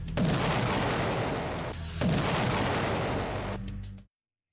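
Artillery shells fired in the Russia–Ukraine war: two loud, sustained roaring blasts in succession, each a broad rumbling boom lasting almost two seconds, the second cutting off abruptly.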